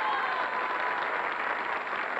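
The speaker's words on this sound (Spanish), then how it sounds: "¡Aplausos por el número uno!" A television studio audience on a Saturday variety show applauds a contestant in a funny-faces contest, a continuous wash of crowd clapping heard from a distance at moderate level.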